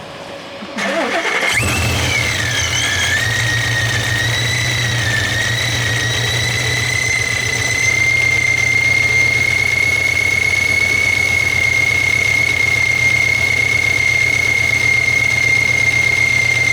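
A supercharged car engine fitted with an ESS G3x starts up on a dyno, catching after a brief crank and settling into a loud, steady run topped by a rising then sustained supercharger whine.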